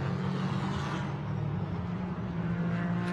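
Porsche GT4 race car in qualifying at the Nürburgring, a sustained loud engine drone with a steady low tone that holds across the clip, fairly close with no clear pass-by peak.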